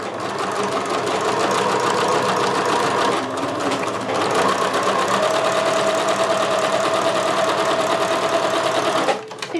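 A sewing machine runs continuously while stitching a zigzag seam on a zippered fabric pouch, a close, steady mechanical whir that stops briefly near the end.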